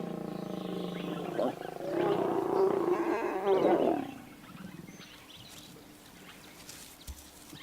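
A lion of the white pride in Kruger roars, a loud, close, rough call that swells for a few seconds and then fades into quiet outdoor ambience.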